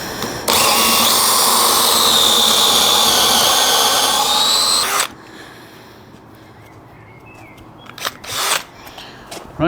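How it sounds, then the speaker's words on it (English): A power drill whines steadily at high speed for about four seconds while a 32mm spade bit bores into wood in a DIY workshop, then stops abruptly, leaving quiet handling clatter and a few knocks. "Each of these holes is going to get a 32mm spade bit about halfway through"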